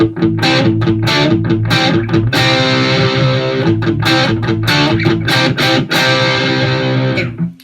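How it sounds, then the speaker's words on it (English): Loud distorted electric guitar playing a series of crunchy, sustained chords with sharp rhythmic attacks, up close and alone. "now if I flick this switch on my amp, I'm now going to get a distorted sound"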